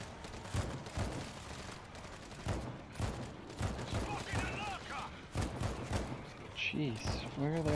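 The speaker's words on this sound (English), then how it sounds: "I get to go and pull the turret." Turret gunfire in a zombie shooter sounds as repeated bursts of shots spread across the stretch, moderately loud, under and between excited speech from a player.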